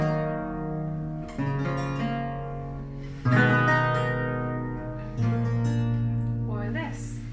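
Theorbo plays a baroque continuo bass line filled out with strummed harmony chords, four rich plucked attacks spaced across the passage, each ringing out warmly and close with no voices.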